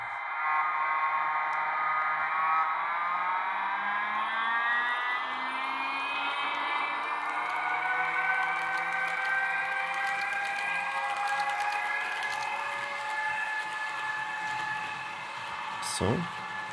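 An ÖBB Vectron electric locomotive with a custom ESU LS4 sound module accelerates to half and then full power, its layered motor tones rising and sliding steadily in pitch, loud and continuous, with a brief sharp burst near the end.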